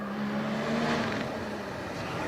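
A Porsche GT4 race car engine revs hard up a hillclimb course, a loud sustained engine note swelling then fading as it passes, with no talking over it.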